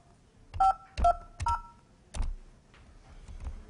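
Telephone dialing tones while calling someone back: a few distinct keypad beeps in a short sequence, then quieter handling sounds, heard alone without talk.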